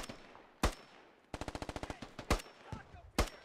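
Gunfire in the video game Squad during mechanized infantry fighting: sharp single shots and one rapid automatic burst of about a dozen rounds, loud and close, with a voice faintly in the background.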